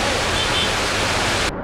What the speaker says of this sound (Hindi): पानी बह रहा है खतरनाक तरीके से